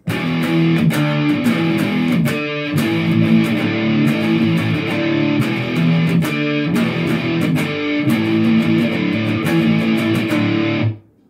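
A distorted electric guitar plays a driving chorus riff, loud and close, with steady strummed chords and brief breaks between phrases.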